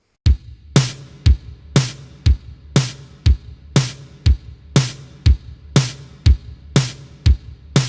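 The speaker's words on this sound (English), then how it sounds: "beats 2 and 4 are typically going to have a snare drum on them" Basic 4/4 drum beat of kick on beats one and three and snare on two and four, with close, punchy hits alternating in a steady, even rhythm that repeats throughout with nothing else playing.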